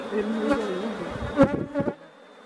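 Honey bees buzzing steadily at an open beehive, a dense close drone with brief louder bursts of handling noise near the end.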